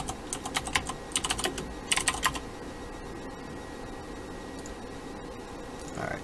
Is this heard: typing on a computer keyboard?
yes